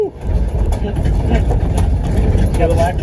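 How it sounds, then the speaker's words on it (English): Tesla-battery electric Volkswagen Karmann Ghia conversion rolling over a rough road, a loud, steady low rumble and rattling road noise filling an uninsulated cabin, with voices talking over it. "we're driving on rough road right now"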